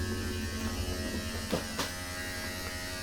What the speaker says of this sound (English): Let me open these slides real quick.